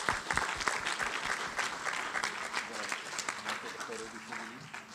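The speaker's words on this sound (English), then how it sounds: "Let's give them one more round of applause." Conference audience applause, a dense crowd of clapping hands that carries for several seconds, with voices and brief talk mixed in toward the end.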